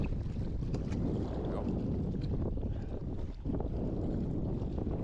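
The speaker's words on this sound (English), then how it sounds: "it's windier than sin out here" Strong wind gusting across an open lake during a spring bass fishing trip from a boat, a constant loud roaring buffet against the microphone with a brief lull near the middle.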